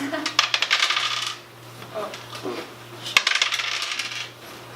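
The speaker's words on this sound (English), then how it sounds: "Would you please roll the dice?" Dice clatter and tumble across a table in two separate rolls, each a quick burst of rattling clicks that dies away, with brief voices in between.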